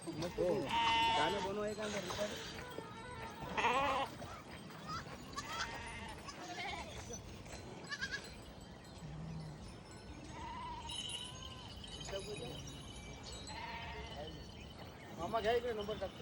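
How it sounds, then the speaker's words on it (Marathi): Sheep and goats of the Balumama palkhi flock bleat repeatedly at close range at a morning halt in Khed Shivapur, Pune, with overlapping cries of wavering pitch while people talk in the background. "बकरी मेंढी"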